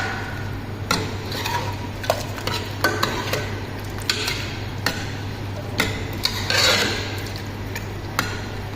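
Cauliflower and potato curry being stirred in a pan, Indian style: repeated scraping and clinks of a spoon against the pan at a steady, irregular rhythm over a faint sizzle and low hum, no talking.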